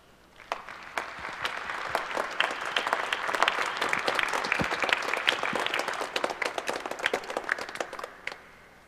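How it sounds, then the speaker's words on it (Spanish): A church congregation at Mass gives warm applause to welcoming pilgrims from the national airport workers' union, a sustained crowd clapping that swells and then tapers off. "que recibimos con un caluroso aplauso"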